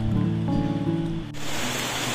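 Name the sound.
rain falling by a river, thunder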